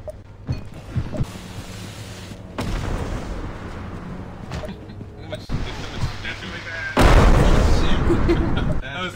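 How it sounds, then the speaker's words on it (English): Explosions in the video game Content Warning, a series of loud booming bursts with a big blast near the end, while players talk excitedly over them. "But it was just an explosion."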